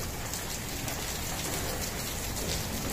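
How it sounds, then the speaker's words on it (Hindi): Steady, dense patter of heavy rain and hail drumming on a surface, continuous and even throughout with no voices. "ये ओले बरस रहे हैं, अल्लाह अपना रहम फरमाए"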